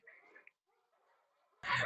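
Muffled dog barks and yelps sound faint and thin, heard through a Yealink BH72 Bluetooth headset microphone, ending with a louder burst.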